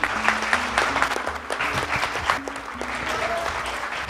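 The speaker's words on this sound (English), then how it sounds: "A big round of applause, everyone, please." An audience at a community religious gathering claps in a full, sustained round of applause, with faint voices and tones mixed in.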